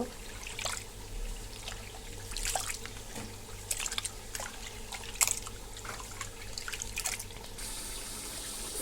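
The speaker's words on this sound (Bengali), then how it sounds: "ফাঁকে আমি চালগুলো ধুয়ে নিব।" Rice being rinsed in water in a home kitchen while chicken biryani cooks, heard as soft, steady splashing and trickling with scattered sharp clinks and drips, fairly quiet, with no talking.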